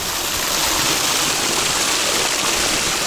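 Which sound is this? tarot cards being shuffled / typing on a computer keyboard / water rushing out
water rushing out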